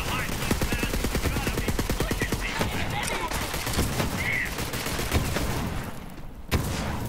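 Rapid automatic gunfire in the shooter game Borderlands 3, a dense loud burst of fast repeated shots filling most of the stretch, with a sharp single blast near the end and a voice talking in the background.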